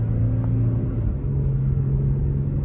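Toyota Tacoma truck accelerating while towing a Tab 400 trailer on the road, a steady loud engine rumble with a sustained drone that dips briefly and then rises again, heard from inside the cab with no talk.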